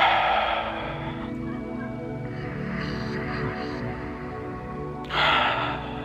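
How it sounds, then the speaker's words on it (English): Ujjayi breathing done with the back of the throat closed, a loud breathy rush at the start and again near the end, separated by a quieter stretch with steady background noise. "close off the back of your throat and it will make a louder noise for when you breathe"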